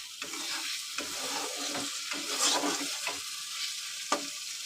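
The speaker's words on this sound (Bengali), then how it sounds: "মাছ হয়ে গেছে ভাজা বন্ধু, মশলা হচ্ছে কষা।" Fish curry spice paste being stir-fried in a pan, a steady close sizzle broken by repeated scraping stirs of a spatula, with no voices.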